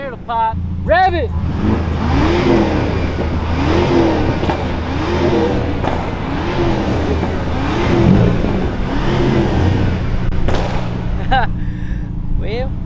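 A car engine on a downtown Houston street revs repeatedly in rising and falling surges, loud and close, while people talk over it.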